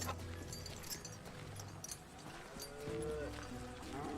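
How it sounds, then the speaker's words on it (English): A cow moos in a long, low call amid the ambient soundscape of the Western shooter game Call of Juarez: Gunslinger, with background game noise running throughout. "Cow."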